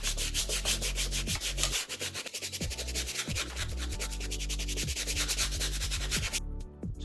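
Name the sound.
scrubbing shoe sole with a brush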